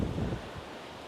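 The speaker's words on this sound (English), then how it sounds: "It's getting a little bit windy as well now." Wind gusting outdoors at a tree-sheltered lakeside swim during a fishing session, a steady low rushing buffet with no speech.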